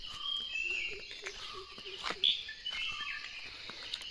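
Faint, high bird chirps and tweets scattered across a quiet morning resort background in Wayanad, with a soft cooing call repeating briefly in the middle.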